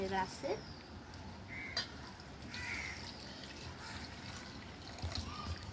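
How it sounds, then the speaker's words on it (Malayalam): Water trickles and splashes steadily into a mixer jar for lemon juice, with voices faintly audible in the background. "നമുക്ക് ഇതിൻ്റെ അകത്തോട്ട് വെള്ളം ഒഴിക്കുക."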